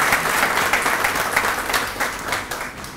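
Steady applause from an audience welcoming the chief guest at an inter-university project exhibition, dense clapping filling the hall for three seconds and tapering slightly at the end.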